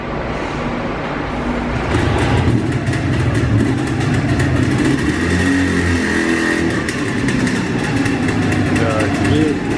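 A VAZ-2107 sits on a roller brake tester as its rear brakes are checked, giving a loud, continuous mechanical whirr with engine roar throughout and shifting rumble partway through.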